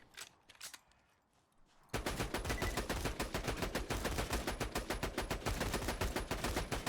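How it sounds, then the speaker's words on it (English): A gun in Borderlands 2 fires a few sparse shots, then opens into sustained rapid automatic fire that keeps going loud and dense to the end. The bursts are sharp and evenly spaced, and no one speaks. "I'm going to put another whole mag in him here, or at least all of the ammo that I have"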